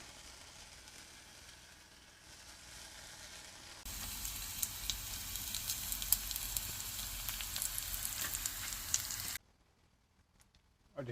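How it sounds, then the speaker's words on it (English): Homemade bacon frying in a skillet gives a steady hiss and crackle that suddenly grows louder partway through, then cuts off to near silence, with no one talking. "get some fried bacon on the go."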